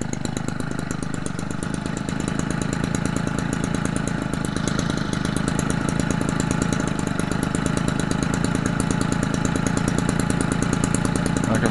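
A McCulloch Mac 32cc gas engine from an RC racer runs steadily near the microphone, keeping a continuous buzzing two-stroke drone at an even loudness throughout, with no talk.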